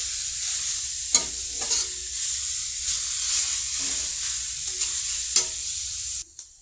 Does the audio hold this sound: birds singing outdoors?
no